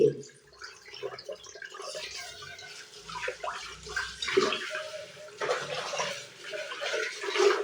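Dishes being washed under a running tap in a home kitchen produce a steady splashing water flow with clinks and sloshes that swell and ease over several seconds.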